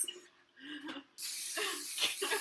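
Cooking oil is sprayed from an aerosol can in a home kitchen while Easter baking, a sharp sustained hiss that starts abruptly partway through after some brief voices.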